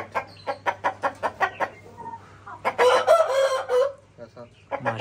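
A white Shamo rooster clucks in a rapid run of short, close calls, followed by a louder drawn-out crow-like call and a few more clucks, with a low steady hum underneath.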